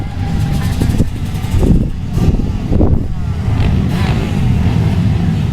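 Several two-stroke and four-stroke motocross bikes start up and rev at a beginner Super Cup race, with loud, surging engine bursts swelling and dropping over a continuous mechanical drone.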